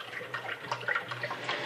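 Hot water, about three cups, is poured into a container to dissolve sugar, making a steady close splashing, gurgling pour with no speech over it.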